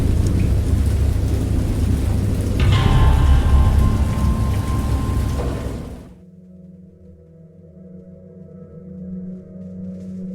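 Heavy rain and thunder in the horror game Dagon, a loud dense downpour with rumbling thunder that cuts off abruptly into a quieter low drone.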